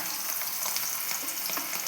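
Masala-marinated prawns, added after curry leaves, sizzle and crackle in hot oil on a medium flame, a dense continuous frying hiss with small popping spatters, close and without talk.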